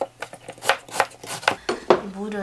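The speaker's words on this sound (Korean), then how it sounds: "이거를 이제 조금 큼직하게 잘라서 밑에 깔아줄게요. 좀 도톰하게 썰립니다." Knife slicing potatoes into thick, roughly 1 cm slices on a board for braised mackerel, several distinct chops in an uneven rhythm, close and clear, with a voice briefly heard near the end.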